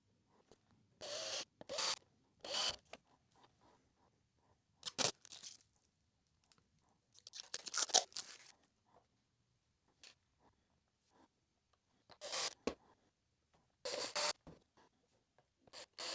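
Screws being driven by hand into a guitar body during final assembly, heard as short bursts of faint creaking, grinding rubs separated by quiet pauses, close and soft with no talk.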